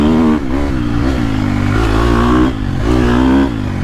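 A 2022.5 KTM 250 Factory Edition dirt bike engine revs loud and close on a trail, pitch rising and falling through several throttle swells with a constant buzzy drone.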